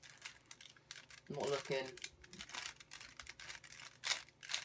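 A Rubik's cube is twisted and shuffled in quick, irregular plastic clicks and rattles, close up, with a short spoken remark partway through.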